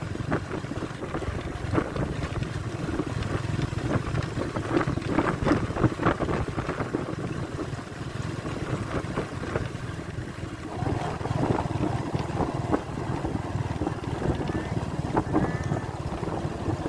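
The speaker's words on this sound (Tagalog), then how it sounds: "Ang lakas ng hangin." Strong wind buffets the microphone outdoors near the water, a continuous rough roar with gusty swells throughout, faint boat and shore ambience underneath.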